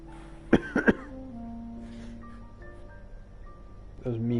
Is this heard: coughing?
yes